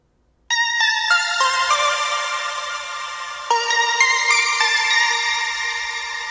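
Synth pluck with added effects, a single bright plucked chord that rings out with shimmering reverb tails, struck again partway through and sustaining to the end, with no talking.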